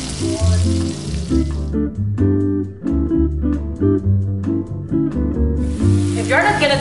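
About two tablespoons of butter melt and sizzle in a pan for caramel. A soft frying hiss rises at the start and again near the end, under fairly loud music.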